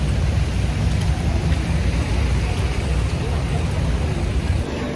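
Rain falls steadily on the streets of Shinjuku, Tokyo, a dense, unbroken wash of noise with a low rumble beneath, loud and close throughout.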